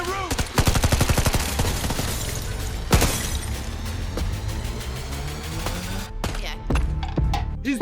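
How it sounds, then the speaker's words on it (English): Dramatized bursts of automatic gunfire rake a guest house, with rapid repeated shots, a sharp loud crack and shattering debris, dense and close, followed by scattered single shots. "They tracked him to a nearby guest house and shot the place to pieces trying to find him."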